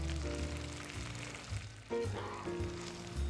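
Chopped carrots and leeks sizzling in a skillet, a soft steady frying hiss under a low background hum and tonal music, fairly quiet.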